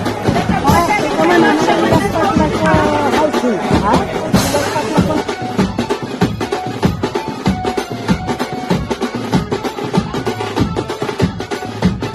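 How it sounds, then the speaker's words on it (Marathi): A dense crowd at the Ekvira Devi temple near Lonavala keeps up a continuous babble of overlapping voices, loud and close throughout. "खूप गर्दी आहे."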